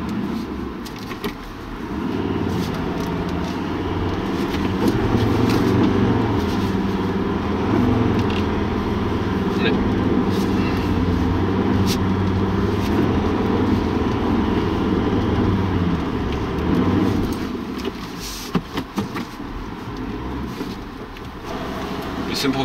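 A Ford Ranger 3.2 Wildtrak pushes off-road through mud, its engine a steady, close, heavy drone that holds throughout with a brief dip near the start.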